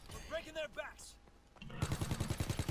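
Gunfire in the video game Call of Duty WW2 during a prop hunt match: after a stretch of talking, a rapid, rhythmic burst of automatic fire breaks out loud and close, each shot evenly spaced.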